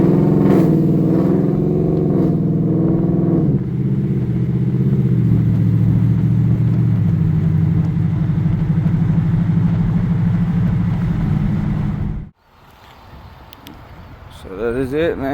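A Ford Lightning pickup's engine runs in a steady low rumble with a few rev swells, holding a loud, close idle before cutting off abruptly near the end.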